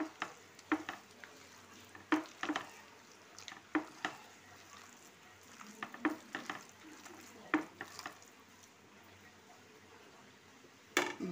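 Chicken kofta mixture with bread, egg and oil being worked by hand, giving a string of soft, wet squishing and slapping sounds in uneven bursts, close and fairly quiet, with no talking.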